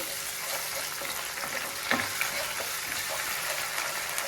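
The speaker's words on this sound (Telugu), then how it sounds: "అల్లం వెల్లుల్లి పేస్ట్ మనం ఆ మసాలాలో వేయలేదు కాబట్టి ఒక స్పూన్ వేస్తూ ఉన్నాము ఇది పచ్చివాసన పోయేదాకా ఫ్రై చేస్తున్నాం" Ginger garlic paste sizzles steadily as it fries in a masala for a paneer curry, a continuous close crackle with a few soft stirring scrapes and no voices.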